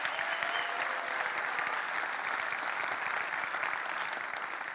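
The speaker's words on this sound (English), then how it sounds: "so why don't we give him a round of applause" Steady applause from a conference audience, an even wash of many hands clapping at moderate distance, sustained throughout without a break.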